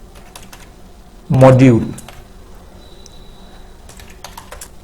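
Quick, light keystrokes on a computer keyboard scattered through the clip, with someone briefly speaking over them.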